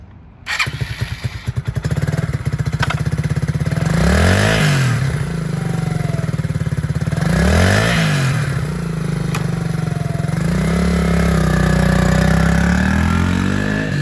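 A used 2019 Suzuki DR200S lightweight dual sport motorcycle starts up and runs close by. A steady, loud single-cylinder idle is broken by several throttle blips that rise and fall, with no talking.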